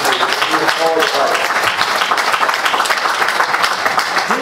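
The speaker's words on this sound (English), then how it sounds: "we need to give him a big round of applause for this" A crowd applauds steadily at a Salvation Army Christmas kettle launch, dense clapping filling the room, with a voice briefly rising over it near the start.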